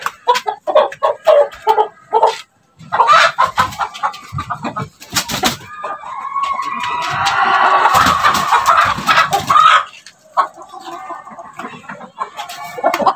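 Roosters, Rhode Island Reds and other breeds, cluck and squawk loudly nearby in bursts, with one drawn-out crowing call in the middle.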